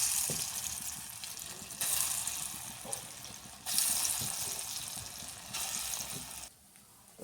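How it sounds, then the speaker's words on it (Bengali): Lentil fritters (dal bora) frying in hot oil give a steady close sizzle that swells and drops in waves as batter goes in, with soft stirring and clatter underneath, no one speaking. "আমি এখানে আগেই তেল গরম বসিয়ে দিয়েছি। এখন ডালগুলো দিয়ে দেবো, ডালের বড়াগুলো দিয়ে দেবো।"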